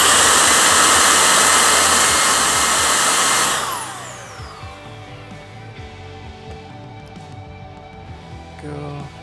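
A Milwaukee 0887-20 M18 brushless precision blower running at speed 3 gives a loud, steady broadband rush for almost four seconds, then spins down with a falling whine, and the motor hum fades out afterward.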